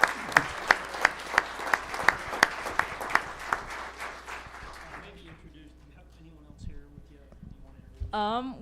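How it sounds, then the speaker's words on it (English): Applause from an audience at a school board meeting for DECA competition winners; a dozen or so strong, evenly spaced claps ring out close and clear, then the room settles into quiet murmuring. "one more round of applause for such an awesome"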